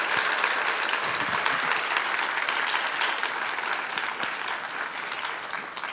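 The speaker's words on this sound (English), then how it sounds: "So let's give a round of applause for all of today's speakers." Sustained applause from a conference audience for a panel of speakers at a Dunhuang cave temples event, dense and steady throughout without pause, fairly close and loud.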